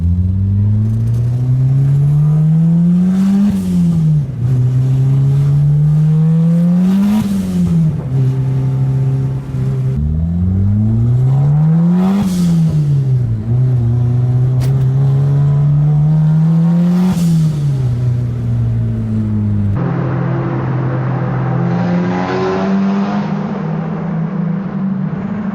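A turbocharged VR6 engine in a Volkswagen Passat revs up and settles back repeatedly, with about five rising-and-falling throttle blips in a row and a steadier, more sustained run near the end, loud and close.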